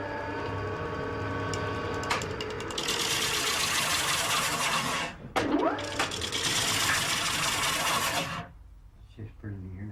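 Wood lathe turning a piece for an Irish spinning wheel, a whirring hum with scraping tool bursts that cut in and out, then fall away to near quiet at the end.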